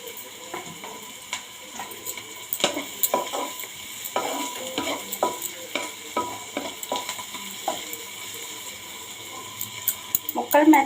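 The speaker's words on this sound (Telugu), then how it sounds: "ముక్కలు మెత్తబడిగే వరకు వేయించుకుందాం బాగా." Sliced bitter gourd and onion frying in a pan, soft sizzle under scattered clicks and scrapes of a spatula stirring against the pan, with a faint voice in the background.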